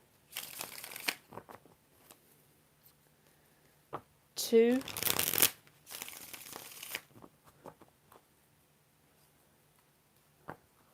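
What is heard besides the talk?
shuffling tarot cards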